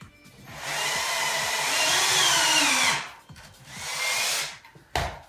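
A power drill bores holes into wood for a rustic nightstand. It gives two close whirring bursts, a longer one and then a shorter one, followed by a brief knock.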